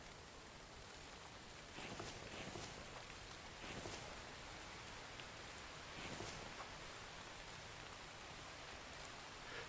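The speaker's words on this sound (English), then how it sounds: "Now the rain's slowing down." Steady rain falls across a game world in The Infected, a soft continuous hiss with brief swells of heavier drops every couple of seconds, fairly quiet and even throughout with no voices.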